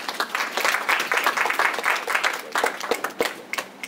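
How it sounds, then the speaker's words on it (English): An audience claps for the newly elected IBAG president and council at an investiture ceremony, a steady burst of many hands lasting a few seconds and fading slightly toward the end. "Let's give them a big round of applause."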